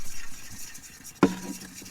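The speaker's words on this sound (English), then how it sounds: "And stir." A spoon knocks once against a cup of milk at a campsite, a sharp close clink followed by faint swirling, with quiet background before it.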